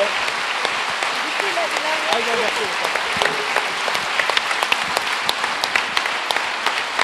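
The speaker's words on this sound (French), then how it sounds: "on peut encore l'applaudir très très très fort" Warm audience applause for a trophy recipient at an award ceremony, close and steady clapping with distinct individual hand claps standing out, with some voices faintly underneath.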